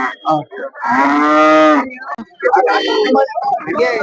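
A loud, close cow lets out one long, drawn-out moo at a cattle market in Honnali, Davanagere, followed by people talking nearby.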